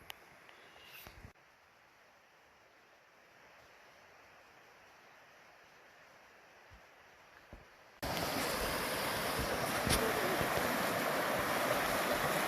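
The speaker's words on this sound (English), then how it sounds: "This is the Ngarurooro River." The Ngarurooro River flows through the Kaimanawa and Kaweka backcountry, heard first as a faint distant hush that suddenly turns into a loud, close, steady rush of water for the final seconds.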